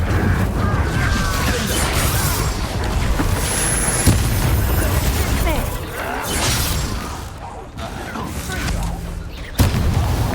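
An Incendio fire spell cast in Hogwarts Legacy erupts in a loud roaring burst, layered over a dense, constant mix of battle booms and crackles that dips briefly before a sharp final hit.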